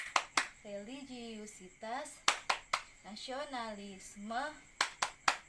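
Classroom tepuk PPK, a rhythmic pattern of loud group hand claps in short bursts between chanted words, with speech heard over the claps.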